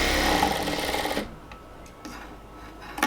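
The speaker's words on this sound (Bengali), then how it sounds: "লক সেলাই দিয়ে একদম হচ্ছে আর্ম হোল বরাবর সেলাই করে আসবো" A sewing machine lock-stitching along the armhole of a blouse gives a close, steady mechanical whir for about a second before stopping, leaving near silence.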